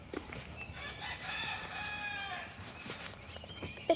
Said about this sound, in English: Oh, look, there's some chickens.